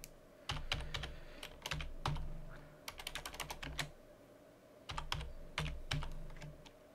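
Quiet clicking of keys on a computer keyboard as text is typed at a desk, coming in short irregular bursts of rapid keystrokes separated by pauses.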